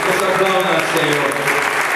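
A church congregation applauds during a Spanish-language worship service, a dense, steady wash of many hands clapping that fills the space evenly with no break.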